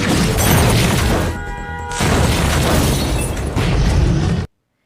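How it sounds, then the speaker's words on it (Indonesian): A car explodes in a loud, roaring blast with crackling debris that rumbles for a few seconds, then cuts abruptly to silence. "mobilnya pun meledak."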